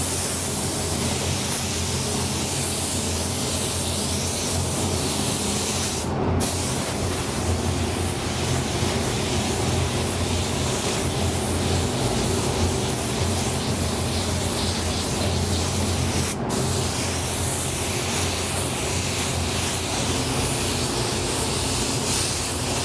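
A spray gun lays a light drop coat of silver aluminum paint over biomechanical art parts, giving a steady, unbroken airy hiss that runs close and loud throughout.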